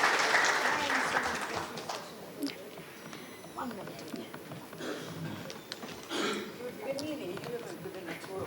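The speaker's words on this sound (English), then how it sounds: "A round of applause for all of them." Audience clapping for panelists at a mutual fund conclave, loudest at the start, then thinning to scattered claps as voices talk over it.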